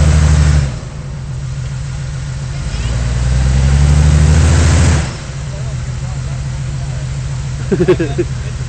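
An off-road vehicle engine idles on a ranch trail, then revs hard for a couple of seconds as it climbs a rocky ledge. It drops back to a rumbling idle and ends with a brief rattle.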